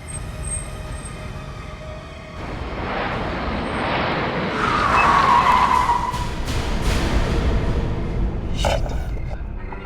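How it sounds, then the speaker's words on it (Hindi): A car in a horror drama skids and slows to a halt, a broad rushing tire and engine noise that swells louder midway and then trails off, with no one speaking. "गाड़ी खुद ब खुद खराब हो गई है, रुक गई है।"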